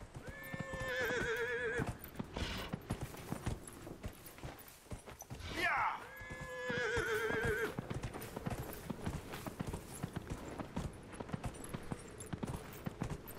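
Two loud horse whinnies a few seconds apart over a steady clip-clop of hooves in the video game Dragon Age: Inquisition, with a faint voice underneath.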